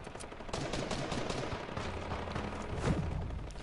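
Gunfire in a video game crackles through a dense, busy mix of game noise, with bursts of shots running continuously and a sharper crack near the end.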